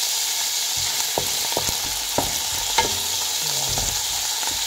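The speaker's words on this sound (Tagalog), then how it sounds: "Prito-prito lang natin ng kaunti." Squid sizzling and frying in a pan for adobo, a steady hiss of hot oil with sharp pops and a few stirring scrapes, close and alone.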